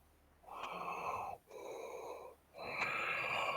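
A voice imitates heavy, raspy breathing of an opponent in a pit, three long strained breaths, close and fairly quiet, with no words.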